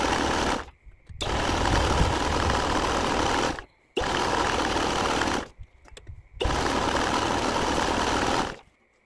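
Small pony starting motor on a Caterpillar D2 5J crawler tractor, primed with starting fluid and fully choked, cranks and fires in loud, rapid mechanical bursts, three long runs broken by abrupt silent pauses.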